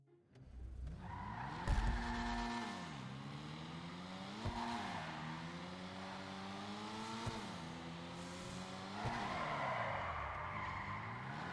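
A drift car in GTA Online from the Los Santos Tuners update skids with long tire squeals while its engine revs up and down in repeated rising sweeps, loud and alone with no talk.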